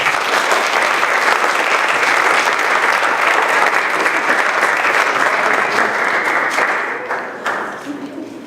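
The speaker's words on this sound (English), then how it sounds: "let's give a big round of applause to the kids" Loud, sustained applause from a crowd honoring children at a school board meeting, a dense wash of clapping that holds steady for several seconds before tapering off at the end.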